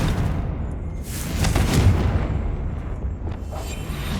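A magical Confringo fire-blast spell from the Hogwarts Legacy video game, a rumbling, booming explosion swelling over a couple of seconds and fading, with no voices.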